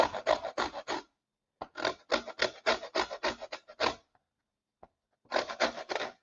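Lemon zest grated by hand, a dry rasping scrape in quick repeated strokes, three bursts separated by short pauses, close and fairly quiet with no talking.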